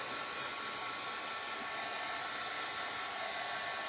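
A hair dryer blows steadily on freshly painted craft pieces, a loud, even broadband whoosh with a faint motor whine that holds unchanged for several seconds.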